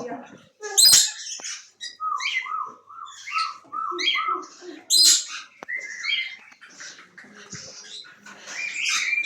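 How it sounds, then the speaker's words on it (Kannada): Several parrots, including blue ones, chirp and squawk nearby in repeated short bursts at a Friday market in Kuwait, some calls rising sharply, with people talking intermittently among them. "ಗಿಳಿಗಳು ನೋಡಿ ಡಿಫ್ರೆಂಟ್ ಕಲರ್ ಗಿಳಿಗಳಿವೆ"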